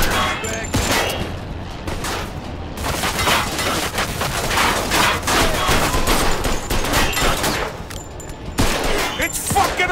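Dense gunfire rips through a Mafia II shootout, rapid overlapping pistol and automatic bursts, loud and close, continuing almost without pause, with a brief lull near the end before shots resume.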